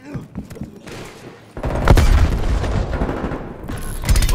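A frag grenade blast and gunfire in a Call of Duty Black Ops Cold War multiplayer Domination match: muffled game noise builds into a loud, booming explosion followed by sustained rattling shots, with a brief voice in the mix.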